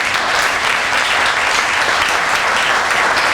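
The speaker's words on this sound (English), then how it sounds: "So can we give them a round of applause?" A breakfast crowd at a chamber of commerce gathering gives a loud, steady round of applause, dense hand clapping that fills the whole stretch with no talk.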